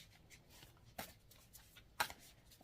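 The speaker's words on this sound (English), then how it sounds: "As I'm shuffling and putting the cards out." Tarot cards are shuffled softly and close by, with quiet riffling and two sharper snaps as the deck is cut or tapped.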